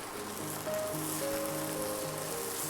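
Crushed ginger and garlic, slit green chilies and fresh curry leaves sauté in a pan for a Kerala village-style chicken curry, a close, steady sizzle and crackle with faint tonal hum beneath.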